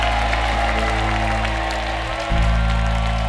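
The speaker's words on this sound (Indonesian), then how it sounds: "tepuk tangan lagi buat para panelis kita" A studio audience on a television talent show applauds the panelists, a steady wash of clapping and crowd noise over a loud, droning low hum of studio music.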